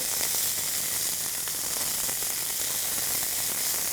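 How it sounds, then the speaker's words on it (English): Meat cheek sears in a hot pan, giving a steady, close, unbroken sizzle with fine crackling that holds at an even level throughout, with no voices over it. "Sear your meat on all sides to ensure that we lock in all of that flavour."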